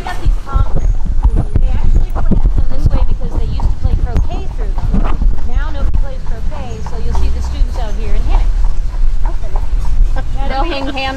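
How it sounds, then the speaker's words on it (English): Horse hooves clip-clop steadily on pavement during a horse-drawn carriage ride in St Augustine, Florida, a close, rhythmic clatter running under near, continuous talking voices and light street noise. "This is great. Carriage ride."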